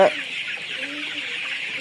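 A CPF three-colour laying hen clucks close by, a short burst at the start followed by softer, low clucks over steady background hiss.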